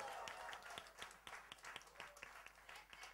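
Scattered audience applause at a fashion week press meet, a loose patter of separate claps of fairly low level, heard somewhat distant in a large room.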